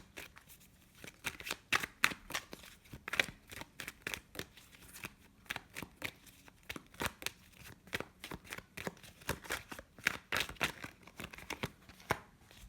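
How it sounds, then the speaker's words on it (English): Tarot cards are shuffled by hand in quick, rhythmic bursts of riffling and slapping, close and fairly quiet, repeating in uneven clusters throughout with no speech. "let's pull some more clarifying cards and see what other messages we can get for all of this"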